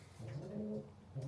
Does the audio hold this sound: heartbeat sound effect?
no